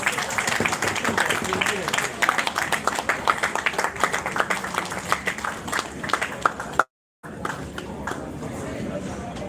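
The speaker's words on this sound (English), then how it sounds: "Can we please keep the applause going, guys?" Lively crowd applause at a school team presentation, dense clapping that runs for several seconds and then breaks off abruptly before a brief quieter tail, with a voice speaking over part of it.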